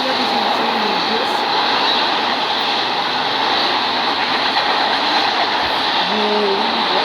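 A fast freight train hauled by BNSF, CSX and Conrail locomotives passes close by, giving a steady, loud roar and rush of wheels on rails that holds throughout.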